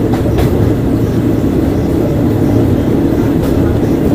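A train winds through jungle on the Death Railway in Thailand, its steady rumbling roll filling the space from close by with a continuous low drone and a few faint clicks.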